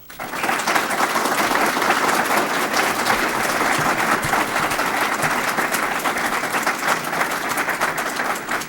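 Sustained audience applause after a closing statement at a local tax collector debate, dense even clapping from a roomful of people that swells quickly and holds steady.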